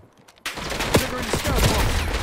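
Rapid bursts of gunfire in a Call of Duty Black Ops 6 multiplayer match, loud and close, with repeated sharp shots and game sounds layered over one another after a brief quiet start.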